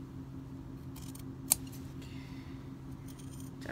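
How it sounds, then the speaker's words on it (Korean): Scissors snip through a denim jeans hem in a quiet room, a single sharp close cut standing out above a low steady background hum. "이렇게 가위로 이렇게."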